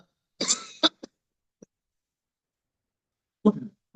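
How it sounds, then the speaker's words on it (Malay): A person coughs a few times, loud and close, during a Quran tafsir study session. A short burst comes near the start and another after a pause of about two seconds, with silence in between. "ya, sekarang batuk"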